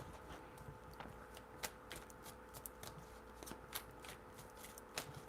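A deck of cards being shuffled, heard up close and quiet as a series of soft riffling bursts and crisp snaps.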